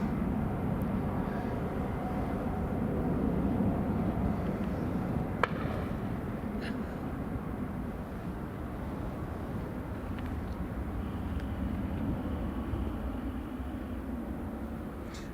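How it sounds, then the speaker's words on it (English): A Boeing 737-800 taxiing onto the runway at Newcastle International Airport, a steady low engine rumble heard from a distance with a couple of faint clicks, no talking. "First of the two 737-800s is just taxiing now onto the runway."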